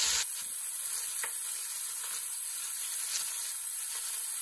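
Beef short ribs sizzle and simmer in a pot, making a steady broad hiss with a few faint pops and clicks, close and alone.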